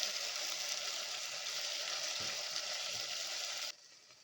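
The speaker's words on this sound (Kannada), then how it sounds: "ಈಗ ನಾವೇನು ಮಸಾಲೆ ರುಬ್ಬಿದ್ನೆಲ್ಲ ಅದು ಹಾಕ್ಕೊಂಡ್ಬಿಡ್ತಾ ಇದ್ದೀನಿ. ಮಸಾಲೆಯನ್ನು ಫ್ರೈ ಮಾಡಿಬಿಡ." Ground masala paste for egg biryani fries in a pan with a steady, dense sizzle that holds evenly, with a couple of soft stirring knocks, before the sound cuts off abruptly near the end.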